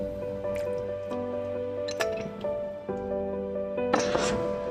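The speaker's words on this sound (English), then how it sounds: "for the pasta water that we saved earlier, I'm just going to add about a couple tablespoons." Saved starchy pasta water being poured into a pan of chicken pasta, soft dripping and wet squishing with light clinks against cookware, close and quiet.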